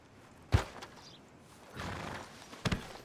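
Horse sounds from Red Dead Redemption 2: a sharp hoof thud near the start, a softer rustling stretch in the middle, then another pair of close hoof hits near the end, with no speech.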